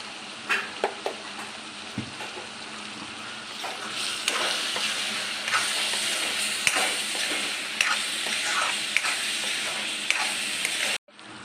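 Mutton keema sizzles and fries steadily in a pan, with a spoon scraping and stirring through it in repeated ticks and knocks, close and continuous until it stops suddenly.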